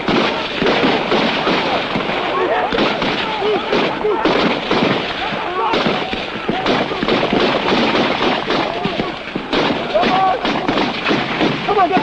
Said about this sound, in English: Most of their bullets are going into the ground ahead.